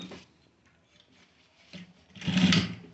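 A sewing machine stitches formal trouser fabric in a short whirring burst near the end, after a brief start and some quiet handling noises in between.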